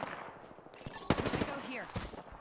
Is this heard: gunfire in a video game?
yes